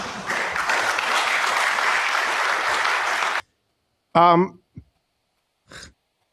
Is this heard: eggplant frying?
no